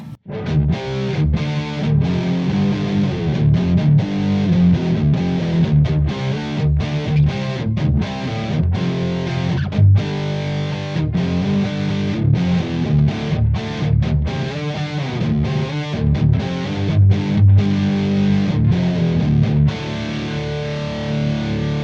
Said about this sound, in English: Now let's turn that chorus on the stereo.